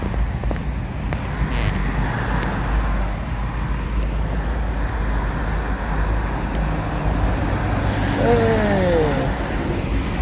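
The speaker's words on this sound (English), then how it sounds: "We have an 18 wheeler behind us." Road noise from inside a moving vehicle, with a big Freightliner 18-wheeler rolling along close behind; a steady broadband engine and tire roar runs the whole time under wind, and people talk over it.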